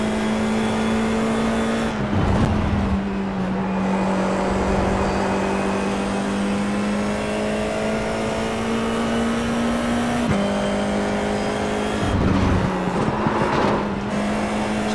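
A Formula iR-04 single-seater at Laguna Seca in iRacing, a loud steady engine drone that holds pitch, dips briefly on downshifts and climbs again, close and continuous.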